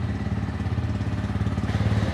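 A Bajaj Pulsar 150cc motorcycle engine idles at low rpm with an even, pulsing thump, close and moderately quiet, with no voices.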